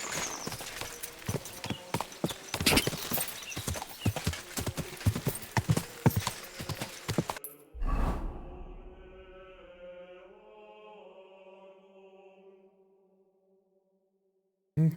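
In the video game Kingdom Come: Deliverance II, quick, busy hoofbeats clop for several seconds, then a horse lets out a long whinny that fades away. No one speaks.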